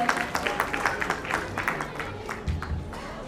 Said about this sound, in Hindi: A huge round of applause, एक बार जोरदार ताली हो जाए